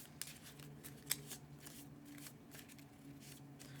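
A deck of cards for the Legendary Marvel deck-building board game is shuffled in a few soft, quiet riffles and taps close to the microphone, with no talking.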